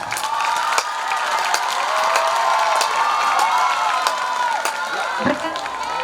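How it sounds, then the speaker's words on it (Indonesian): Applause and cheering from a school crowd honoring the committee that ran a student council election, a dense, steady wash of clapping with shouts and whoops over it, loud and continuous throughout. "Kita beri tepuk tangan kepada para panitia kita."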